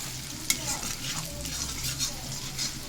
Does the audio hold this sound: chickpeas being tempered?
yes